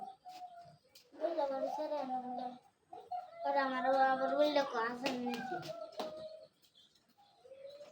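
Soft pigeon-like cooing and chirps mixed with people talking, fairly faint and intermittent.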